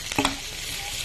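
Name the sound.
tomatoes frying and sizzling in a pan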